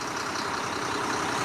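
A freshly overhauled engine idles close by with a steady, even rumbling beat that holds unchanged throughout, with no other sounds.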